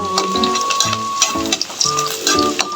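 Onions and garlic sizzle and crackle loudly in a hot pan, close up, with scraping stirs and clinks breaking through the steady frying hiss.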